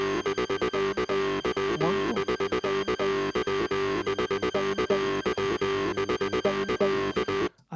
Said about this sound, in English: we also get this little womp womp, which I'm fairly sure is another TB303